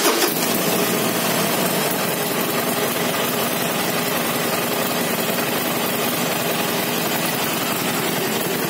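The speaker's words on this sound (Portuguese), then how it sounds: "aqui você liga a moto" A Harley-Davidson Iron 1200 motorcycle engine idles steadily after starting, a continuous broadband rumble with a stock-legal exhaust, close and unchanging throughout.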